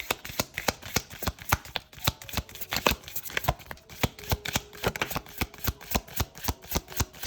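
Tarot cards shuffled up close in a fast, continuous riffle of crisp slaps and flutters, steady rhythmic bursts throughout without talk.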